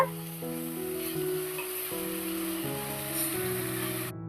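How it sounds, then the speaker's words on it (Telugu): Masala fries in a pan for a country chicken curry, a soft, steady sizzle heard under tuneful background music throughout. "పచ్చివాసన పోయే వరకు వేగాలండి మసాలా"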